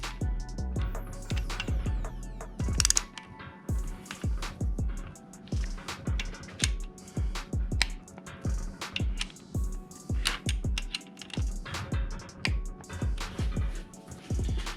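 A ratchet tightens bolts to torque on an LS 5.3 V8 engine during a piston install, giving a long run of close, rhythmic clicking strokes, steady and fairly quiet, with no talk.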